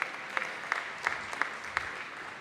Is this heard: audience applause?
yes